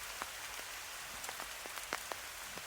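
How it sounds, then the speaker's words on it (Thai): Rain falls steadily in a Khao Yai forest, a soft continuous hiss with scattered sharper drips and splats landing nearby, faint and without voices. "ที่ได้ยินเสียงนั่นคือเสียงของสายฝนนะครับ"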